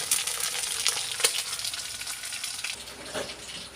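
Steady, crackling sizzle of food frying in a pan, close and continuous, with a few sharper pops and no voices.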